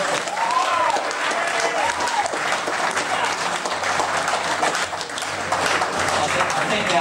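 A boxing crowd at a fight for Tasmanian boxer Daniel Geale roars with loud, sustained applause and cheering, dense clapping and shouting filling the whole stretch without a break.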